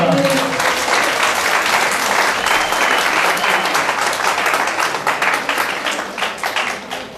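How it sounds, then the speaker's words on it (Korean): A church congregation at a Sunday afternoon service breaks into loud, sustained applause that fills the room with dense, continuous clapping and then slowly tapers off toward the end. "박수 부탁드립니다"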